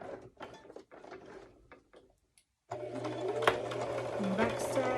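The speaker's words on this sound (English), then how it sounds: "I'm going to go up here and sew so I have a little opening" A person talks briefly, then after a short pause a sewing machine starts stitching appliqué, running with a steady close mechanical whirr and rhythmic needle clatter.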